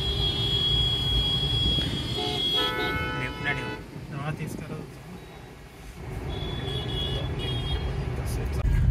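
Road traffic heard from inside a car stuck in a jam near Nalasopara, a low rumbling engine and road noise with a string of horn toots, continuous and close, with voices talking throughout.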